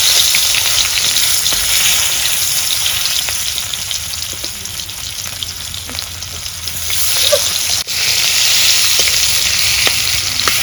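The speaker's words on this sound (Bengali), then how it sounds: "তেল গরম হয়েছে আর মাছগুলো আমি মশলা দিয়ে মাখিয়ে নিছি। এখন দিয়ে দিই।" Pieces of silver carp rubbed with turmeric and spices fry in hot oil, starting with the fish head, making a loud, steady, close sizzle that eases briefly and then swells again.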